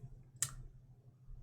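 A single sharp click from an infinity cube fidget toy being folded, a short clack heard once against a quiet background.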